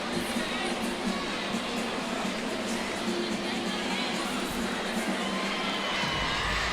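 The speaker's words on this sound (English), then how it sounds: "Once again, the huge crowd reaction." A large crowd cheers and shouts loudly and continuously in an arena after a vault at an LSU women's gymnastics meet against Utah, a dense sustained roar.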